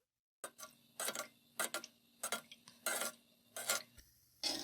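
A spoon gently stirs gulab jamun frying in ghee, giving a quiet, steady series of light metallic ticks and scrapes against the pan at an even rhythm, with a soft bed of frying underneath.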